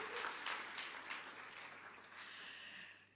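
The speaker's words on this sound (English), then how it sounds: "So yes, another round of applause." A conference audience claps in a fairly faint, even round of applause that tapers slightly toward the end, many hands blending into a steady patter.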